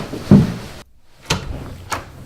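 Door sounds, three separate knocks or bumps spaced under a second apart: a heavier first thud followed by two lighter, sharper hits, with a quiet pause between the first and second.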